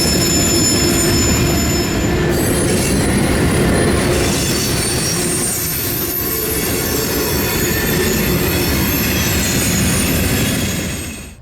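CSX freight train Q409, a mixed freight with a rebuilt CM44 locomotive as mid-train helper, rolls past close and loud, its wheels squealing in a continuous high screech over the steady rumble and rattle of the cars.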